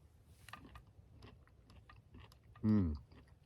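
Soft chewing of a piece of warm cooked zucchini comes through as quiet, close mouth sounds. A louder brief burst follows near the end.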